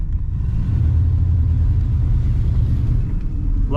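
A 1966 Pontiac Grand Prix barn find idles with a steady, loud low rumble that stays close and even throughout, with no talk.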